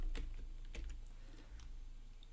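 Quiet, irregular keystrokes on a computer keyboard, a few separate clicks spread across a couple of seconds, close but faint, with no talking.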